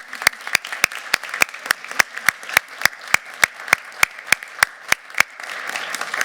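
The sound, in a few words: audience applause for founding members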